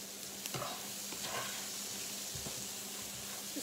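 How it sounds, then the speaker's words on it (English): Fresh sage being stirred into stuffing sizzling in a pan, a steady close frying hiss with a few soft scrapes of the spoon. "Just gonna stir this in over here."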